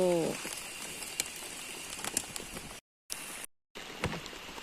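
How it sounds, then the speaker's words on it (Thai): Steady patter of rain falling on a surface, with scattered louder drops and crinkling hits, continuous and fairly close, briefly cutting out twice. "ตอนนี้ฝนตกปล่อยๆ"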